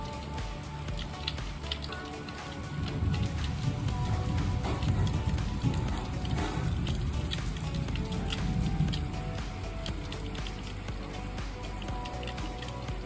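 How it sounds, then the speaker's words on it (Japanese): A heavy summer evening downpour in the Japanese countryside falls steadily, with dense patter and drips on surfaces and water running along the ground like a stream, swelling slightly in the middle. "ものすごい雨でした。"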